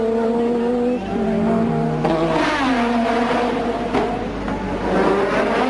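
Formula 1 cars race through the Monaco street circuit at the 1986 Grand Prix, several engines screaming and shifting pitch as they pass close by, with faint tyre squeal and crowd noise under a steady roar.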